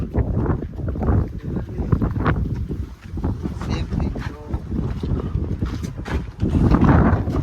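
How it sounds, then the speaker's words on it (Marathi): Heavy wind at Lohagad Fort buffets the microphone in rumbling gusts throughout, growing strongest near the end, while people speak intermittently. "वारा भयंकर आहे रे"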